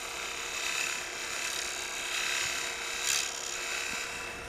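Woodturning tool shaving waste wood off a bead on a spinning lathe, a steady broadband rasping hiss with slight swells, close and continuous with no talking.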